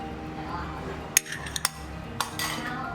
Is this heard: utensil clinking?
yes